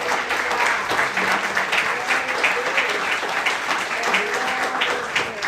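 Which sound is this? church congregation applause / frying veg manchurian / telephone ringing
church congregation applause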